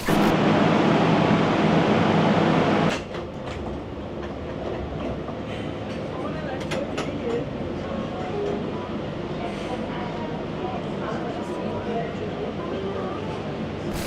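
Tehran metro train, a loud roar for the first few seconds that drops to a steady rolling rumble with faint rail clatter, people talking over it.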